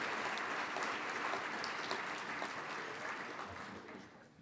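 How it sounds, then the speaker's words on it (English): A City Club audience applauding its sponsors, a warm, dense round of clapping from a roomful of people that holds steady and then begins to fade toward the end. "Please join me in a warm round of applause for our sponsors."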